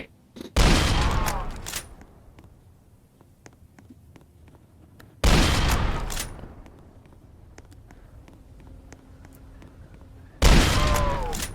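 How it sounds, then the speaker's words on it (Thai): Bursts of gunfire in the Roblox game Dead Rails, three loud clusters of rapid shots fired at zombies, separated by quieter stretches with scattered faint clicks and thuds. "เดี๋ยวเรายิงเรื่อยๆเลยนะครับ"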